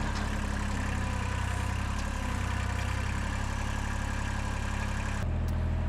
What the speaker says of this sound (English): So turn the tractor around and we'll try to lift it using the box scraper